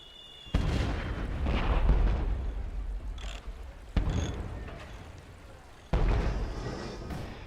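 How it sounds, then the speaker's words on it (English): German artillery shells and mortar rounds strike near a bridge in wartime, three heavy booms landing one after another with long rumbling decay, loud and close, with no voices. "they're shelling them continuously or mortaring them"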